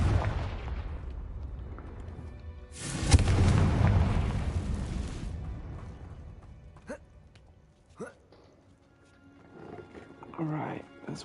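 Fire spell explosion in the video game Hogwarts Legacy: a loud, deep roaring burst of flame and blast that rumbles for about two seconds, followed by fainter game effects and small impacts.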